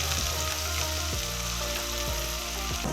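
Green onions with ginger and garlic sizzle steadily in a hot pan, a continuous bright frying hiss with a few soft scraping knocks of a utensil every second or so.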